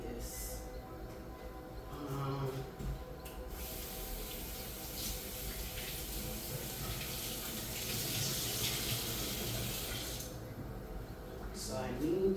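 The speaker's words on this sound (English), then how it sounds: "So I need to wash off my kale." A kitchen tap runs steadily while kale is rinsed under it, a continuous close hiss and splash that swells slightly toward the end.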